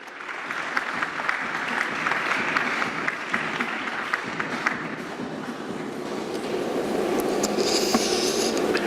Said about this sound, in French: Sous vos applaudissements, ladies and gentlemen